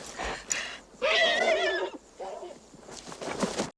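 A horse in the 1992 western film Unforgiven gives a loud, wavering neigh, with hoofbeats and rustling before it and a shorter second whinny following.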